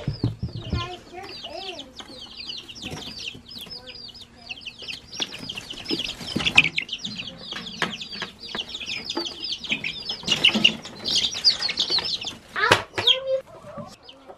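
Chicks and chickens cluck and chirp in quick, overlapping bursts close by while being moved into a chicken tractor outdoors, with some rustling and a voice speaking briefly underneath.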